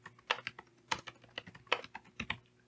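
A name being typed on a computer keyboard while setting up a new Gmail account: quiet, close key taps in quick irregular bursts of two or three strokes, with no voice.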